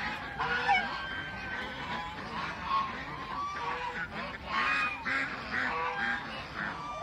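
Muscovy ducks, adults with half-grown black ducklings, keep up a continuous chorus of honking, hissing and peeping calls close by, loud and overlapping throughout.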